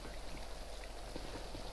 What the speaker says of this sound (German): Jetzt müssen wir auch noch im Regen kämpfen hier.